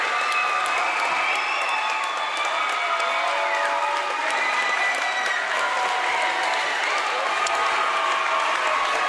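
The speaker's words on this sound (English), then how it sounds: "Listen to the crowd." High school volleyball crowd erupts after a match-winning point in a regional championship, sustained loud applause and cheering with shouts and whistles layered over it throughout.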